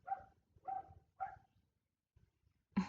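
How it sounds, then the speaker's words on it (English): A single dog barks three times in an even rhythm at moderate distance, then gives a louder, closer fourth bark after a short pause. "The one dog barking again."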